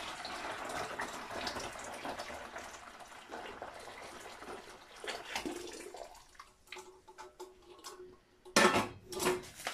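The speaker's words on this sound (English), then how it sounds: "add the hot water to the bucket first" Hot water from a pan and kettle pours into a bucket in a kitchen, a rushing, splashing stream for several seconds that thins out, followed by clinks and a louder clatter.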